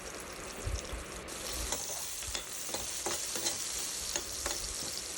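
Sliced onions sauté in oil with a pinch of salt for a Tamil veg macaroni pasta, giving a steady close sizzle broken by repeated scraping stir strokes through the pan.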